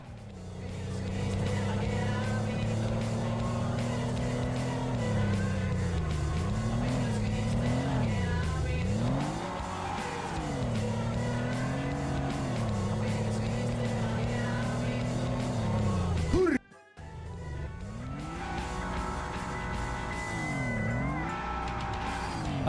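A Polonez car drives in the video game Mushroom Season, its engine droning steadily and rising and falling in pitch with gear changes and revving. It cuts out briefly near the end, then resumes.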